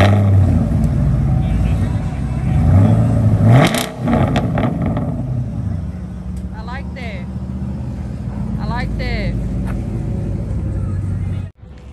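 A car engine with a muffler delete gives a loud, raspy exhaust as it rumbles and revs up in several bursts, close by, with a voice briefly audible.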